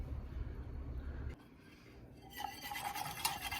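A spoon stirs banana cream pie filling in a pot, scraping chunks off the bottom. A soft, low churning gives way to quiet scraping and light clinks against the pot.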